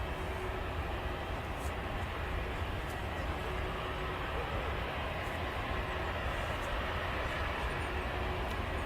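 An Etihad Boeing Dreamliner on approach to Manchester Airport, a steady broadband roar of jet noise that holds at a constant level throughout, heard from a distance with no other sounds standing out.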